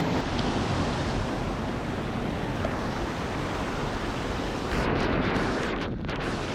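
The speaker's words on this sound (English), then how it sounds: "the water out here is extremely loud" Loud rushing water outdoors on a summer hike near caves and waterfalls, a constant roaring wash of broadband noise that fills the air, close and overpowering, with brief wind buffeting near the end.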